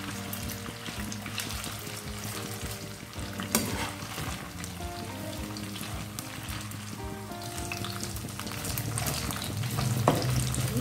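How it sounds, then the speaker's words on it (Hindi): Paneer pieces fry in hot oil for Restaurant-style chilli paneer, a steady close sizzle and crackle running throughout with occasional stirring or turning noises and faint background music, no talking. "इसे भी दोनों तरफ से पलट के अच्छे से तल लेंगे"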